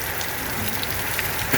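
Steady, dense rainfall patters evenly on surfaces, a constant close hiss without breaks or voices.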